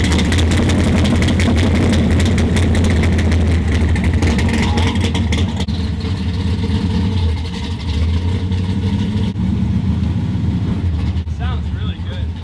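A roughly 900-horsepower gasser drag car idles loudly and close up, with a deep, lumpy rumble that holds steady throughout, with voices mixed in.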